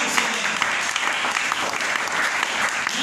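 Dense, steady applause from a church congregation, a continuous wash of clapping that holds at an even level for the full stretch.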